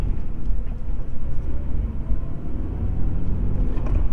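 A 2023 Toyota GR86 Premium pulls away in first and shifts into second, giving a steady, loud low engine rumble and road drone that continues throughout, with no clear break at the gear change.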